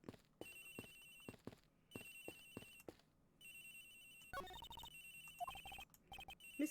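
A cell phone ringtone rings in the Ace Attorney Investigations video game, repeating electronic bursts with brief gaps, quiet and alone, followed by a busier musical stretch.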